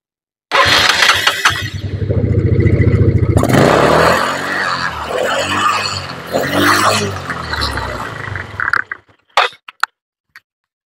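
Motorcycle engine lacking power, revved loudly and close up: a strained, sputtering roar that rises and falls through several throttle blips before cutting out, with a few faint knocks at the end and no speech.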